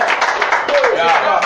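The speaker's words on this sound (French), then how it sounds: "on va applaudir Eskili qui est avec nous." An audience claps in a loud, dense burst while voices and a high whistle-like tone ring out over the clapping.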